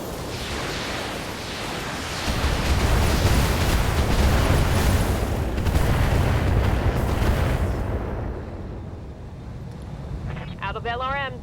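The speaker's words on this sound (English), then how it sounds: "Firing a full salvo." A full salvo of missiles fired by a mech in the BattleTech video game, a dense run of explosive booms and rumbling bursts that swells loud for several seconds and then fades, with a short burst of electronic game tones at the end.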